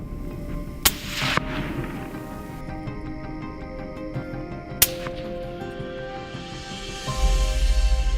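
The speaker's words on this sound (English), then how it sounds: "tense moments each time a gunshot rings out" Two sharp gunshots crack out a few seconds apart during a wolf hunt, each followed by a ringing echo, over a quiet outdoor background with a faint engine hum.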